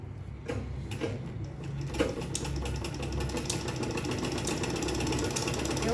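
A sewing machine stitches fabric in a steady, fast mechanical rattle that runs continuously, loud and close, with a few clicks at the start and no speech.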